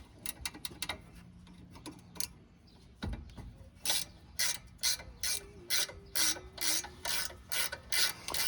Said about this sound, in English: you need a 13mm wrench. Just want to break those down.